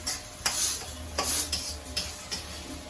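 Sautéing in oil, close by: a utensil scrapes and taps the pan in several sharp strokes over a steady sizzle.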